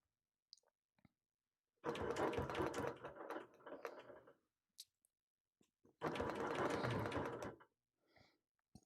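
A sewing machine stitches during ruler quilting in two steady mechanical bursts of rapid whirring and clicking, each about two seconds long, with quiet pauses and light clicks between them.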